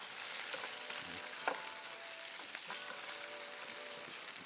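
Pork sizzling and frying steadily in a hot pan for a Vietnamese pancake, a dense, continuous crackle with a few brief clinks and stirring knocks, close and fairly loud with no voices.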